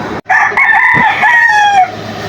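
A single crow from a 3.5-month-old gamefowl stag, close and loud, slightly rough and breaking, lasting about a second and a half.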